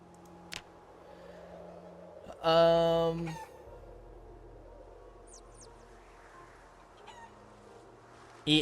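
Chickens in Project Zomboid Build 42: a loud, harmonic, roughly second-long call breaks a quiet farm background, with a few faint clucks and chirps scattered around it.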